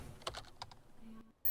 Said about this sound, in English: Every single key press from our actors, I have to put it in as a sound effect